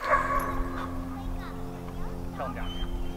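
A young dog, seven months old, barks in a bite training session, giving a few sharp loud barks and yips close by amid steady background noise, with a person speaking between them.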